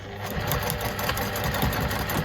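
A sewing machine stitches steadily to reinforce a steek in knitting, a close, continuous mechanical whir with no pauses.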